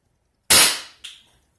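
A pump-charged marshmallow blaster fires through a chronograph: one sharp, loud pneumatic crack rings out of silence, followed half a second later by a smaller, softer snap before it fades away.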